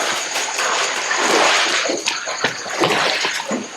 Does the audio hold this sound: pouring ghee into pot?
yes